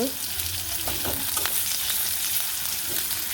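Onions frying in hot oil with cumin seeds, giving a steady close-up sizzle and crackle with light stirring scrapes throughout.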